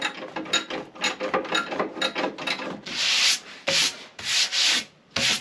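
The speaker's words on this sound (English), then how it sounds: "actually tightening down these bolts all along this side right here" A ratchet clicks in quick bursts as bolts are tightened on a Jeep TJ, followed by longer rasping strokes, close up with no talking.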